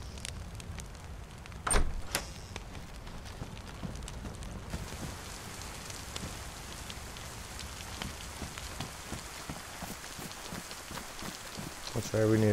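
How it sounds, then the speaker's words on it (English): Steady rain falls in the DayZ survival game on the Livonia map, a dense hiss of drops on surfaces that runs continuously throughout, with a brief louder knock near the start and another thump at the very end. "It's still raining."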